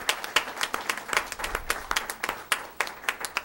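A small audience at a school district board meeting claps steadily, brisk close handclaps from a few people that continue without a break and have no voices over them.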